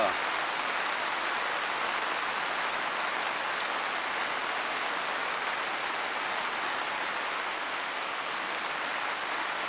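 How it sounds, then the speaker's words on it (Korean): Heavy rain pours down steadily during a rainy-weather camping trip, a dense continuous hiss that fills the whole scene at close range without letup. "비 진짜 미쳤다"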